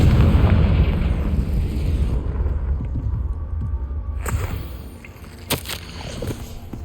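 The Confringo explosion spell from Hogwarts Legacy goes off as a loud, close fiery blast, with a heavy rumbling boom fading into crackling debris and a few sharp pops.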